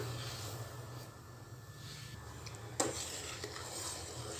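A spoon stirring milk with palkova and sugar in a pan for jigarthanda, soft scraping and swishing with a faint low hum and a single sharper clink of utensil against the vessel.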